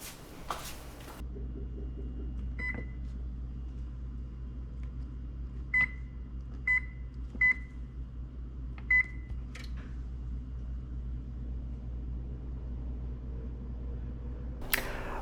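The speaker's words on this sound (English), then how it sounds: "So first things first, let's heat our oven." Kitchen oven controls being set to preheat to 350 degrees: five short, sharp beeps spaced about a second apart over a low steady hum, close by and with no talking.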